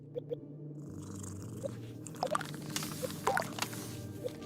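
A cat purrs in the video game Gori: Cuddly Carnage, a steady low rumble running throughout with faint drips and small game sounds over it.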